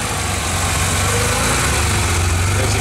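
A car engine idles steadily and loudly nearby, a continuous low rumble with even vibration and no talk.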